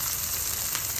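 Garlic paste, ginger paste and chili powder sizzle in hot oil in a small pan, a steady close frying hiss that runs without a break under no talk.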